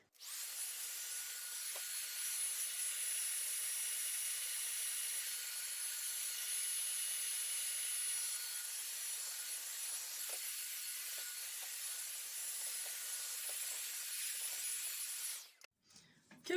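A Revlon One Step hot air brush dryer runs with a steady, airy whir and high whine that holds for about fifteen seconds before abruptly cutting off.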